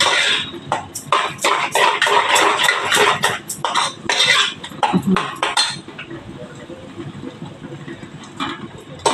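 Spoon stirring a gram flour (besan) mixture in a vessel, giving a rapid series of sharp metallic scrapes and clinks close by that stop after about six seconds, leaving quieter background with a few faint knocks.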